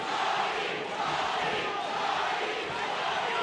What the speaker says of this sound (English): Look at the crowd is chanting, they're into it.